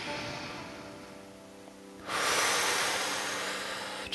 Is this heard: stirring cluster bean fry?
no